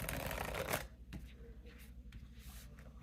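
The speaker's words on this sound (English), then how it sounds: "I'm going to get that one more good shuffle." Tarot cards shuffled by hand: a brief dense riffle of crisp papery rattling, then quieter soft shuffling and slides, close up, with a voice speaking under it.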